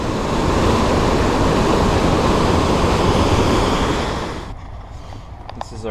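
Godafoss waterfall in Iceland thunders as a loud, steady rush of falling water, holding constant, then dropping off sharply near the end to leave quieter ambient sound with a few faint clicks.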